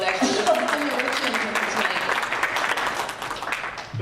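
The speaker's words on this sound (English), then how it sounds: "I think we should give him a round of applause actually." An audience at a 2018 US Congress campaign event for Dr. Nadia Hashimi applauds steadily for about four seconds, a dense, fairly close wash of clapping with voices mixed in underneath.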